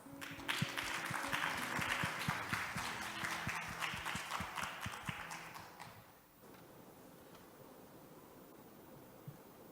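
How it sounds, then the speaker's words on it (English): Audience applause welcoming a speaker to the stage at the opening ceremony of a regional development seminar, a dense clapping wash for about six seconds that then stops, leaving quiet room tone. "Please welcome him to the stage with a big round of applause."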